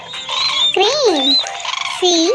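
Crane bird call: a loud, nearby run of honking, trumpeting calls with rising and falling tones, heard alone with no talking.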